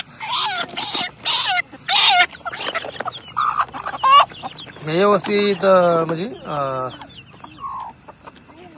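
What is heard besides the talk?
chickens clucking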